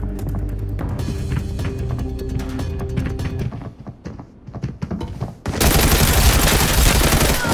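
Gunfire crackles in the Arena Breakout shooter game as rapid bursts and single shots with thuds, easing briefly before a loud, dense volley takes over to the end, with no talking.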